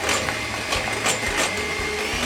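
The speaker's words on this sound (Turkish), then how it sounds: "Çırpıyorum" Soufflé batter for a chocolate soufflé is beaten with a steady, whirring mechanical buzz that holds throughout at even strength, with faint rhythmic ticking and no speech.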